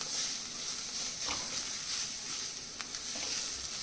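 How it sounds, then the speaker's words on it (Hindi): Salt, turmeric and red chili powder roasting in a hot pan, a bright steady sizzle with a few sharp scrapes of a spoon against the pan, close and unbroken. "कुछ सेकंड्स के लिए भूनेंगे।"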